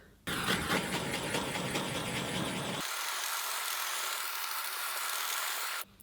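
A hairdryer drying paint switches on with a loud, steady blowing whir, changes to a thinner, airier tone partway through, then cuts off abruptly.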